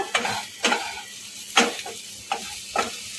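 Chicken roll filling sizzles and scrapes in a hot pan over a high gas flame, with five distinct stirring strokes at uneven intervals over a steady frying hiss.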